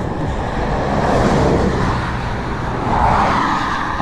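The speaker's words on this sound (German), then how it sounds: "Starker Verkehr." Heavy road traffic on the US Pacific Coast: a dense, continuous roar of cars passing nearby, swelling slightly as vehicles go by, with no talk.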